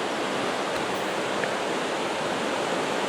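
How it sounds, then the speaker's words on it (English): River water pours through the open sluice gates at Iden Lock near Rye, a steady, even rushing roar that carries on without a break. "the gates are open and they're letting the water and the flood"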